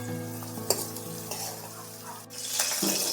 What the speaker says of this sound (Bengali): বাকি তেল যেটা বেঁচে আছে সেই তেলের মধ্যে আমি দিয়ে দিচ্ছি কেটে রাখা বেগুনগুলো